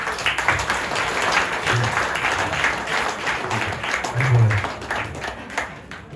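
Sustained audience applause at a political list presentation in Pointe-à-Pitre, dense clapping that swells slightly toward the end, with no speech over it.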